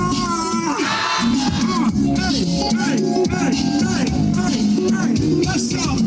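A crowd shouts back in unison on a leader's cue, with loud, sustained, overlapping voices filling a lively gathering.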